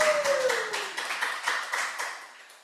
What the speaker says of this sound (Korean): 박수 좀 한번 쳐드려야 되겠어.